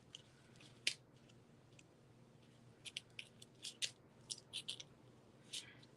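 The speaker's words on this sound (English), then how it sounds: "these scissors weren't made to use for adhesive" Scissors snipping through adhesive sheet at a crafting table, giving a series of short, crisp cuts and crunches scattered across the stretch, close and fairly quiet with no talking.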